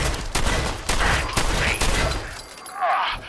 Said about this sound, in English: Damn this gunshot!